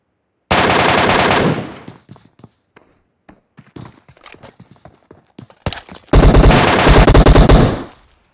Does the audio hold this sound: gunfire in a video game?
yes